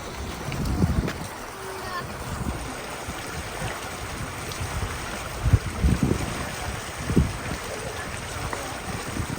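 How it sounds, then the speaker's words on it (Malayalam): Water flows along the edge of a park at a tourist spot in Al Baha, Saudi Arabia, as a continuous rushing wash, broken by low wind rumbles buffeting the microphone. "ഈ ഒരു വെള്ളം ഇതിൻ്റെ ഈ പാർക്കിൻ്റെ സൈഡിലൂടെ മുഴുവനായിട്ടും ഒഴുകുന്നുണ്ട്"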